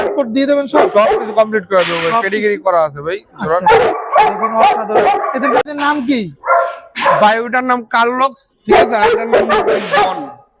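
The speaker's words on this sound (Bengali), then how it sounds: "এই কুকুরগুলো" Several imported Italian German Shepherd dogs for sale in Bangladesh bark loudly and repeatedly, in rapid bursts close to the microphone, with people talking throughout.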